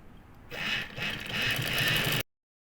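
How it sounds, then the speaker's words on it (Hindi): A sewing machine runs a single line of stitching to attach elastic onto the folded sleeve of an umbrella frock, with a steady mechanical whir and rapid needle chatter that runs for about two seconds, then stops abruptly. "एक सिलाई से ये इलास्टिक लगा लूँगी।"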